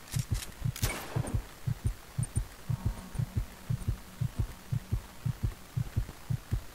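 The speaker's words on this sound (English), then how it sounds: "Just wait for that heartbeat to come back up" Heartbeat sound effect from the Roblox game Before The Dawn, a steady loud pulsing thump repeating in an even rhythm throughout, with a brief burst of noise near the start and a single short exclamation from a player.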